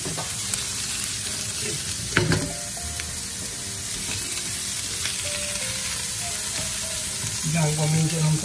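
Eggplant and onion fry in a pan with a steady, close sizzle and a stirring texture, broken by one sharp clink of a utensil partway through.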